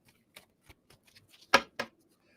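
A tarot card deck shuffled twice, two crisp papery riffle bursts close to the mic near the end, preceded by a few soft taps and rustles at a low level.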